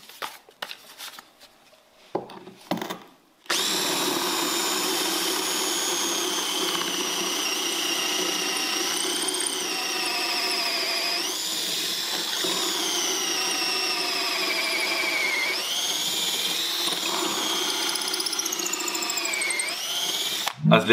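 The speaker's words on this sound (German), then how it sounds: "Wir haben hier einen 8er Bohrer." After a few short taps, a DeWalt DCD710 12-volt cordless drill with an 8 mm bit runs continuously for a long stretch, its pitch shifting as it bores into hard sand-lime brick, close and steady.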